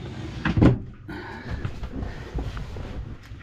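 A storage drawer in a Coachmen Clipper Express 12.0TDXL lightweight camper trailer slides and knocks shut, one sharp wooden thump followed by a softer rattle and faint room noise.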